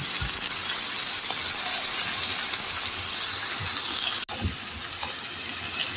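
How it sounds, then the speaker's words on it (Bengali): A little water poured into a hot pan of frying coconut prawn curry makes a steady hiss and sizzle of steam, with a brief clatter near the end, and no talking. "দিয়ে দিচ্ছে হালকা একটু পানি"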